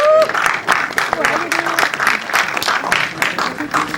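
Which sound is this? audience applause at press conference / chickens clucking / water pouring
audience applause at press conference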